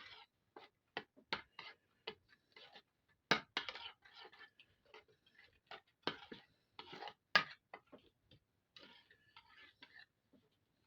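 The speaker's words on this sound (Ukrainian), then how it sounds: "І це все ми перемішуємо." Ingredients for baked mackerel are stirred in a bowl, producing quiet, irregular scrapes and clinks that come in short bursts with small pauses between them.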